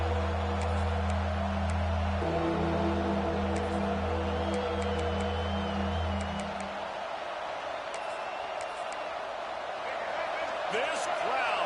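Full-throated crowd roaring at a college football game between LSU and Georgia, a steady loud wash of stadium noise that continues throughout, with a low droning layer fading out partway.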